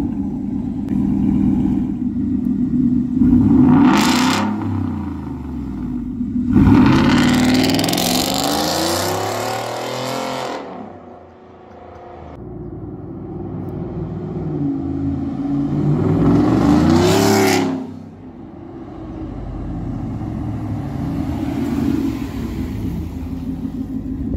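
Ford F-150 with a Coyote 5.0 V8 and a loud aftermarket catback exhaust, revved hard several times in short bursts over a deep idling rumble, close and loud with no talking.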